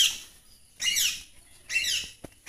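A parrot at a zoological park gives two loud, harsh squawking bursts about a second apart, with quieter chirps and a sharp click between them.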